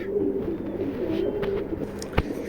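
Racing pigeons cooing nearby in a steady, low, throaty murmur, with one brief sharp click near the end.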